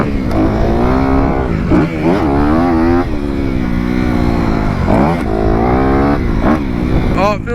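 A big motocross bike on a rutted dirt track, its engine loud and close with continuous revving that rises and falls through gear changes and throttle blips. A rider's voice breaks in briefly over the engine.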